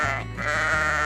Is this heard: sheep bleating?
yes